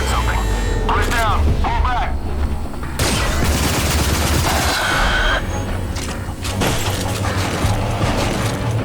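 Gunfire in the first-person shooter game Rage, loud rapid bursts and cracks with mechanical weapon clatter running almost continuously over dense game sound effects.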